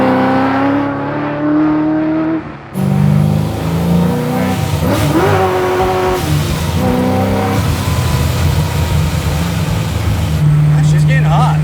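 A Pro Charged 850 hp 1969 Camaro restomod V8 rumbles loudly at close range, its engine note rising and falling through several revs, with people talking over it.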